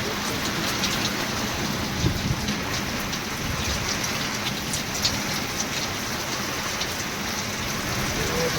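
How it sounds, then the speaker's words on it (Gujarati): Steady, heavy out-of-season downpour with a constant close hiss of rain drumming on the ground, unbroken and unchanging throughout, with only a few slightly louder drops standing out. "વરસાદ આવ્યો"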